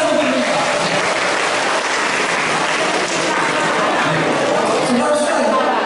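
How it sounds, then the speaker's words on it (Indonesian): A congregation at a thanksgiving Mass for a school anniversary in Maumere claps steadily, a dense and continuous round of applause from many hands that fills the whole stretch. "tepuk tangan untuk Riva."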